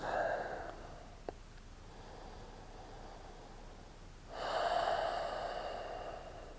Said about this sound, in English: Finding another 2 or 3 rounds of your breath